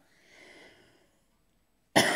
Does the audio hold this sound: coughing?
yes